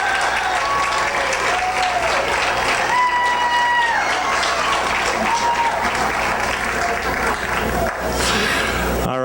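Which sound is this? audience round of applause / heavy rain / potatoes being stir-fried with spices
audience round of applause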